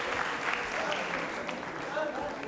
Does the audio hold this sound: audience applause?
yes